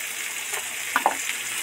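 Splash of water poured into spices frying in a pan for cucumber curry, a brief pair of hissing bursts over a steady low sizzle.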